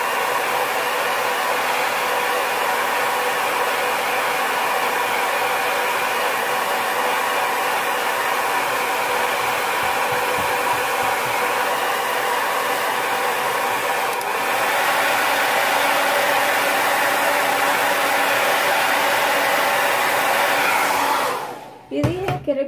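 A hair dryer blows steadily and loudly at close range while drying a painted piece, a constant airy roar lasting about twenty seconds before it switches off with a quick fade.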